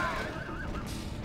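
A horse neighs in the Battle for Middle-Earth video game, a wavering whinny that is loud at first and then trails off over a steady layer of battle noise.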